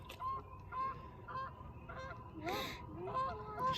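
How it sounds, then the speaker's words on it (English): Geese honk while fighting outdoors, a series of sharp, fairly faint honks in an irregular rhythm, with a louder burst of squabbling near the middle. "I don't know if you see the geese fighting, but they are fighting"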